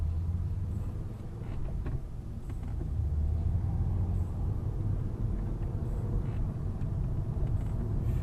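A car's engine and road noise rumble steadily from inside the cabin as it pulls out onto a road with no traffic, with a few faint clicks and knocks over the low drone.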